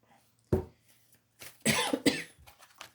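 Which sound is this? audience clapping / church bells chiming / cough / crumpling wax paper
cough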